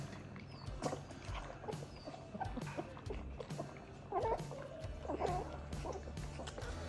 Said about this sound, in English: Now there's all 9 puppies in there eating.